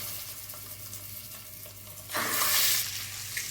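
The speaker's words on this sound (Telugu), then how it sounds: "ఆయిల్ వేడైన తర్వాత సాల్ట్ పసుపు కొంచెం కారం ఎగ్స్ వేపాలి" Eggs frying in hot oil seasoned with salt, turmeric and a little chili powder, giving a steady close sizzle that swells into a louder, hissing burst partway through before settling back.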